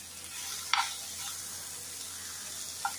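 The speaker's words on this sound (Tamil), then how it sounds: "தக்காளியும் இது கூட சேர்த்து நல்லா இதை வதக்கிடுங்க." Tomatoes and chopped chow chow sautéing in a pan for chutney give a steady soft sizzle, with a few sharp utensil clinks against the pan near the start and end.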